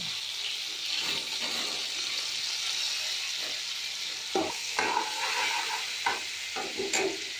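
Masala spices sizzle in a pan after a splash of water, with a soft steady hiss and a few clinks and stirring scrapes near the end.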